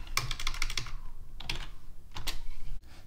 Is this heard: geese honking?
no